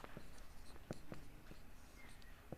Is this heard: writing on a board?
yes